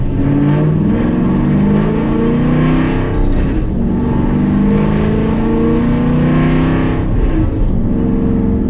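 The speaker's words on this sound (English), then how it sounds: "There's that rattle. You can hear it in second gear really bad." A car engine runs loud and close under load in second gear, with a rough rattling buzz mixed into the revving drone.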